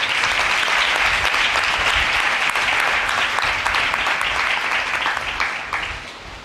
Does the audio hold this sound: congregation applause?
yes